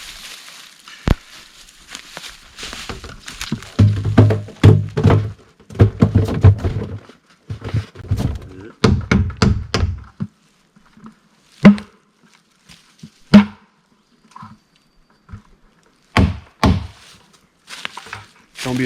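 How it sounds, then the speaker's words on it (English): Buckets bang and thunk while a bear bait barrel is loaded in the Maine woods, with irregular hollow knocks, scrapes and sloshing, busy at first and then scattered louder hits. "be afraid to bang buckets around,"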